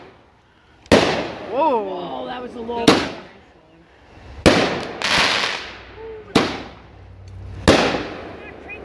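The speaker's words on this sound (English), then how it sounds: "We set a firework off." Fireworks set off at night outside a home around 3 a.m.: five sharp, loud bangs spaced a second or two apart, some followed by whistling streaks and crackling tails, with people's voices reacting between blasts.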